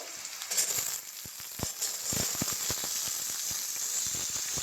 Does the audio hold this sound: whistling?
no